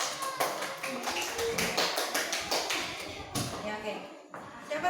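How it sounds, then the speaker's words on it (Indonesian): Students in a classroom clap together in an uneven burst of hand claps, steady and fairly close, with chatter and voices running underneath throughout. "Tepuk tangan buat Asri kelompok 1."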